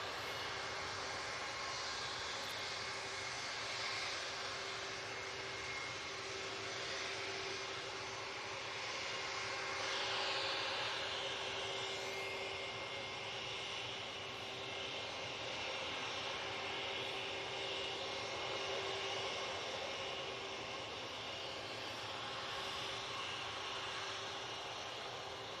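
Ryanair airliner arriving from Copenhagen at Manchester Airport gives a faint, distant, continuous jet engine drone with a steady tonal whine, swelling slightly midway and heard without any talking.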